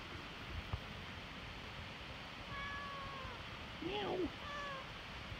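A couple of short, faint meows sound over steady background hiss, one brief call followed by a slightly louder one moments later.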